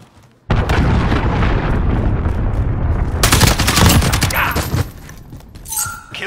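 Dense, loud gunfire with heavy booming blasts from cruise missile strikes in Modern Warfare, a continuous barrage of rapid shots and explosions that tails off toward the end, no voices.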